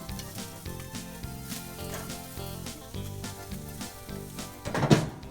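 Bass fillets sizzle on a fish grill grate, a continuous crackling fry holding steady at moderate loudness, with a brief louder burst of hissing near the end, no voices present.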